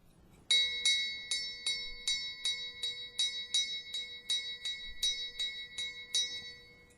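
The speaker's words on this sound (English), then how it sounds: "We will ring the bell of Genesis to open this holy season program." A ceremonial bell is struck to open a holy season program: about a dozen clear, evenly spaced strikes ring out, each leaving a bright, sustained tone over a quiet background.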